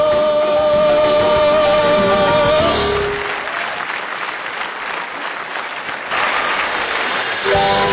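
Long, loud audience applause and ovation at a live concert on the grounds of Rabati castle, rising as the music fades out and swelling into a dense wash of clapping.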